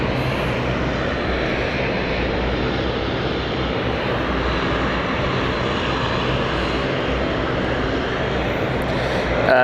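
Helvetic passenger airplane at London City Airport, its engines producing a steady, loud broadband roar that holds evenly throughout with no pauses and no talking.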